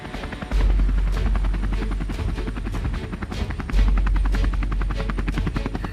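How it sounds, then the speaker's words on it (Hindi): A cartoon mini helicopter flies and lands on an island, its rotor chopping in a steady fast pulse with a low engine hum, loud and close for the whole stretch. "लंबू अपने मिनी हेलीकॉप्टर को टापू पर लैंड करा के"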